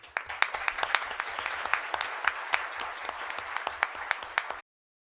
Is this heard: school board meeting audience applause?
yes